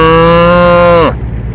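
A person imitates a dying cow with a loud, drawn-out moo-like groan, its pitch sagging at the end before it breaks off into quiet room sound.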